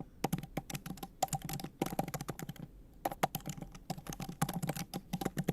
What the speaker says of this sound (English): Sorry for how loud my typing is.